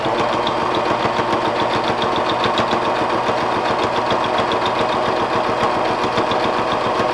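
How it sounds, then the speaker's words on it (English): A sewing machine runs steadily while stitching fabric for a Bible cover, its needle chattering in a fast, even rhythm close by, with no pauses or voices. "I have finished sewing all the way around"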